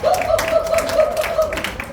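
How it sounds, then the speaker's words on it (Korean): A Korean business group at a company gathering claps in a quick burst of congratulatory applause under a steady musical tone. "김나은 대표님 축하 박수."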